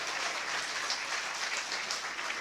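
Steady, fairly faint applause from the crowd at a Hindi poetry gathering (kavi sammelan) held by a bar association in Meerut, an even wash of clapping throughout.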